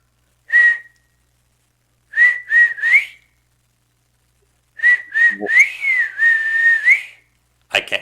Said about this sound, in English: I can't whistle that well.